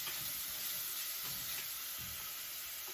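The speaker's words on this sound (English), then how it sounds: "and let it saute up" Shrimp sauté in a pan for shrimp Alfredo, giving a steady close sizzle with soft stirring taps underneath and no voices.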